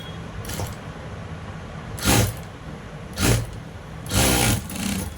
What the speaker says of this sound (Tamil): இந்த மாதிரி ஓரமாக தையல் போட்டு